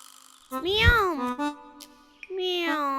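An animated cartoon cat gives two drawn-out, rising-and-falling meows with a gap between them. The meows are clear and close, and a voice performs them in a cartoon style.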